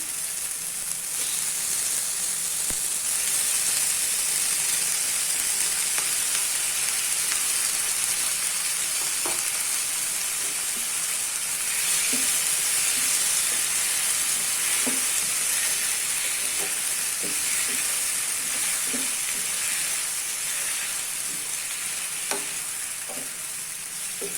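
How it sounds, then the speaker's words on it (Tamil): Chicken pieces frying with tomatoes in a pan for white kurma, a loud continuous sizzle and hiss with occasional stirring clinks and scrapes, no voices. "இப்போ நான் சிக்கன் போடுறேன்"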